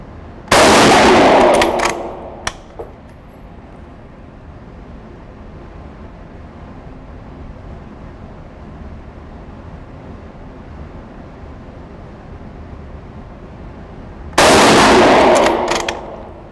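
Two loud, sharp rifle shots from a Longbranch Lee-Enfield No4 Mk1 in .303 British fired at a target. One comes at the start and one near the end, each with a ringing tail, and a long quiet stretch lies between them.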